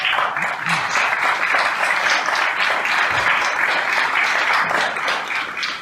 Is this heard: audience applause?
yes